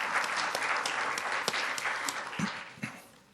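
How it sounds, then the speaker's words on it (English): Audience at an international journalists' conference applauds a speaker, a steady wash of clapping with a few sharper individual claps standing out before it tapers off. "Please give a big round of applause for Mr."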